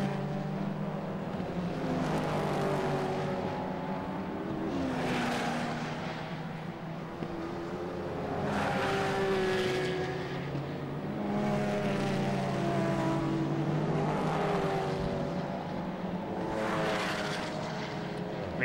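Praga race cars racing at Oulton Park, engines rising and falling in repeated loud passes, several cars sweeping by one after another over a steady motor drone, with no talking.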